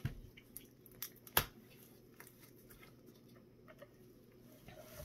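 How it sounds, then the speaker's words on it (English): A bottle of Aussie Floetral liquid is given a quick shake close by, producing faint sloshing and light rattling taps with a couple of sharper knocks in a quiet room. "So let's give this Aussie Floetral a quick little shake."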